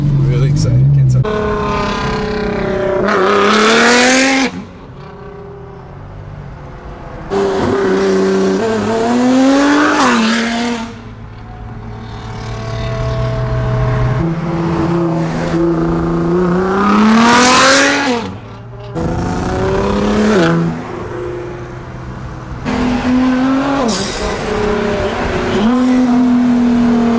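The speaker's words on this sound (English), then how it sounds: "See how the new exhaust sounds and stuff like that." Tuned Nissan GT-R with a new exhaust pulling hard on a highway, engine revs climbing repeatedly through gear changes, loud and close, with excited talking throughout.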